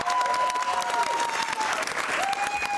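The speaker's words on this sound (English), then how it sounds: "Give him an applause." Studio audience applause at a televised cricket segment with a Lord's Cricket Ground link-up, a dense steady clatter of many hands clapping, loud and close, running on for a few seconds with a faint tone beneath.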